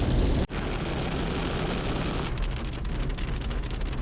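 Steady rain pours down outdoors near a campsite tent, a dense, continuous hiss close by with one brief dip early on and no voices.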